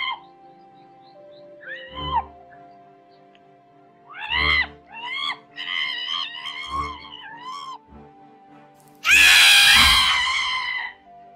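A woman screams loudly for about two seconds near the end, waking from a nightmare, after faint voices and quiet background music.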